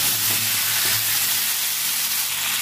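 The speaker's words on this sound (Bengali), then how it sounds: "আলুটা হালকা ভেজে নিয়েছি" Potato pieces frying in a pan with onion, tomato and green chilli for a Bengali cabbage ghonto, a loud, steady sizzle with a broad hiss that holds without pause.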